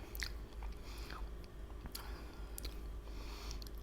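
Crunchy bites into an Egyptian pastry with a cream filling, its crisp outer shell soaked in rose or orange water, crackling close up in several quick bites with chewing in between.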